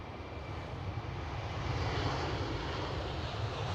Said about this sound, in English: And another Delta Airlines A330.